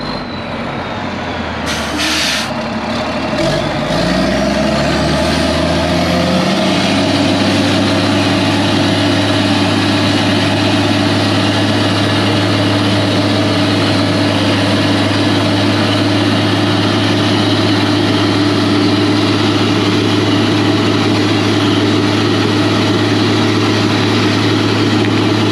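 Diesel engine of a crew cab 2.5 ton overland camper truck, idling loud and close with a strong steady low hum after a brief rev and an air-hiss burst near the start.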